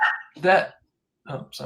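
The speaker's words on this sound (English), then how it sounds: "that was my dog" A dog barks close by in two quick bursts, and then a person starts speaking.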